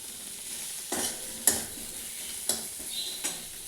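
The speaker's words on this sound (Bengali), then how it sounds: "আলুগুলো সুন্দর ভাজতে ভাজতে নরম হয়ে গেছে।" Potatoes frying in a pan give a steady close sizzle, broken by a few sharp knocks and scrapes as they are stirred. No one speaks.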